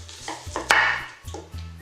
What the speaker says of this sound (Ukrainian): Далі нарізаю цибулю.